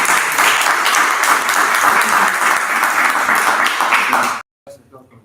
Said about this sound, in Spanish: Vamos a aplaudir, ¿no?